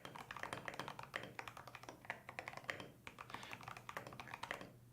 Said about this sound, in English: The space has a really heavy bottom out sound too.